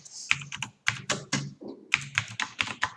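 Code being typed on a computer keyboard in Turbo C++: brisk, irregular clusters of clicky keystrokes with short pauses, close and fairly quiet, with no talking over them.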